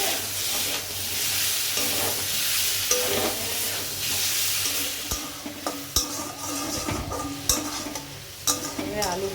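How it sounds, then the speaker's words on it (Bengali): Potatoes frying in a pan, a steady close sizzle with scraping stirs and a few sharp clinks of utensil against the pan. "আলু ভাজছি"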